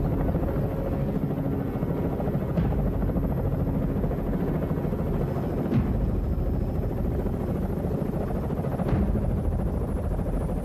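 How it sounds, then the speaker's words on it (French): Helicopter rotor and engine drone steadily and loudly throughout, a continuous low heavy thrum with a few faint whooshing swells, close by in an action-film scene. "Votre hélicoptère est prêt."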